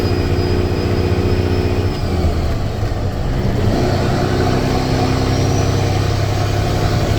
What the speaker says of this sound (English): my husband put loud mufflers on